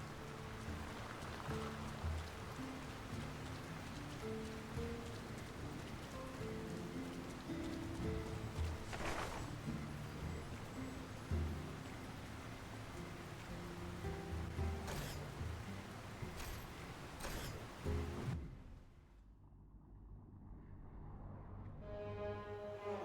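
Steady rain falls through a town in the video game Lord of the Rings: War in the North, a constant soft patter under game music, fairly quiet, ending in a muffled fade.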